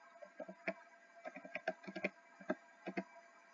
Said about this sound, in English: if I type in the letter E